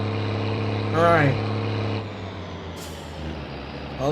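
A truck in the My Summer Car video game, its engine droning steadily while short air-brake hisses and squeals burst out over it, with a voice speaking now and then.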